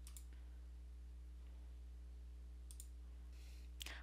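Computer mouse clicking a download icon, a few sharp close clicks spaced apart over a steady electrical hum.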